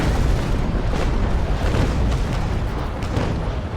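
Naval Action ship cannons firing a broadside: a dense, loud, continuous rumble of overlapping booms with no gaps, rolling on evenly and easing slightly toward the end.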